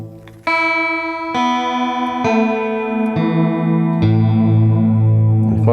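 Electric guitar run through a chorus pedal at maximum depth, a series of about six strummed chords each left to ring, producing a lush, wobbling, detuned shimmer, loud and close with no talking.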